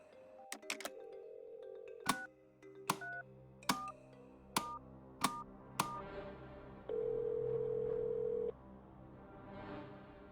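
A telephone keypad in the video game The Journey Down dials a number: about nine quick tone beeps in an uneven rhythm, then a sustained steady tone, alone and clear.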